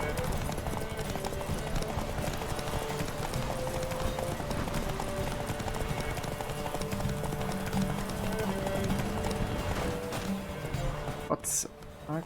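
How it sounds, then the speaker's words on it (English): Galloping horse hooves from The Witcher 3: Hearts of Stone, a steady rapid clip-clop that runs through the whole stretch beneath game music, with someone talking over it. "Swift, I would see you at full speed. Giddy up."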